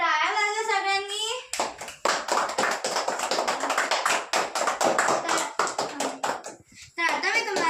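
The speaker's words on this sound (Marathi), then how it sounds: "टाळ्या वाजवा सगळ्यांनी." A roomful of schoolchildren bursts into loud, dense, sustained clapping for several seconds, framed by someone speaking before and after.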